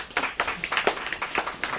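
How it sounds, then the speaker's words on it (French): Audience claps in quick, irregular bursts, a close, lively patter of several pairs of hands at a moderate level, with no voices over it. "Applaudissez s'il vous plaît."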